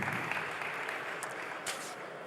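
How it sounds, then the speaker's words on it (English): Conference audience applauding, a steady dense wash of hand claps held at even loudness for a couple of seconds, with no voices over it. "Give these guys a big round of applause."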